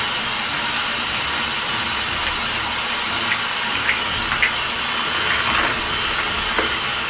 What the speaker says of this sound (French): je vais rincer le tout